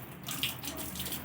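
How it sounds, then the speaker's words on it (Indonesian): Tap water runs steadily into a cupped hand, a continuous close splashing hiss for the whole short stretch. "kita langsung menggunakan air keran yang kita tampung di sini"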